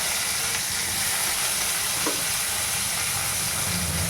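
Chopped onion hisses in hot oil in a wok, a steady dense sizzle that stays loud and even throughout, with one faint clink near the middle.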